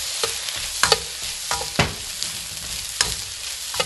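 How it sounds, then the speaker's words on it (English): Pork-lard fried rice with light soy sauce frying in a wok, with steady sizzling and repeated scraping, stirring clatters of a spatula at close range, no voices. "And just a few drops of light soy sauce."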